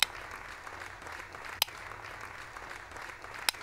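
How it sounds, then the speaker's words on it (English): A recorded crowd applause track plays from a sound-effects button, a faint, even wash of distant clapping broken by three sharp clicks as the button is pressed. "Dan queued up the crowd applause track and pounded the green button a few times."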